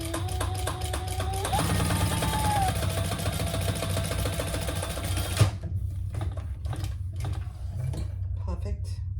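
A sewing machine stitching a leather handbag runs with a fast, steady mechanical chatter for several seconds, then stops, leaving scattered clicks and handling noises.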